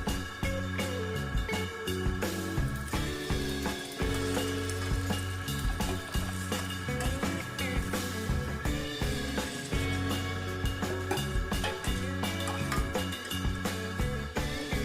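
Steady bubbling and sizzling of milk boiling in a pot, continuous and fairly loud, with no talking.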